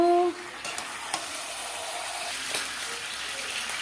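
Oil and water sizzle and spatter vigorously in an overfilled pan of biryani being cooked for fifty people, a continuous crackling hiss close by with a few sharper pops.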